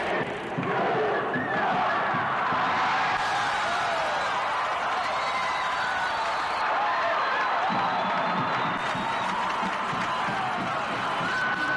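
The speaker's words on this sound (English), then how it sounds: "The crowd will count it down." Hockey arena crowd at the final seconds of the 1984 Bemidji State national championship game, a loud, sustained roar of cheering and whooping that fills the whole clip, swelling and dipping slightly with scattered shouts and clapping.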